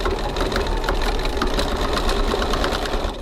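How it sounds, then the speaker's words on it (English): A sewing machine stitching the sides of a zipper pocket on a crossbody bag, a steady, fast mechanical whirring and clatter running continuously and close up without pause. "now we're going to stitch the sides of our zipper pocket closed"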